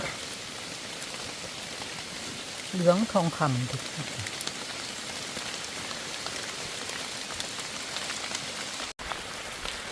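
Heavy rain pours down in a dense, steady hiss in a forest while picking wild mushrooms, with a short burst of a voice partway through.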